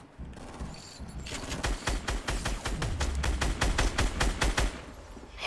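Rapid bursts of gunfire in a Fortnite tournament match, a sustained series of sharp repeated shots, some in quick automatic runs, loud and close throughout with no talk.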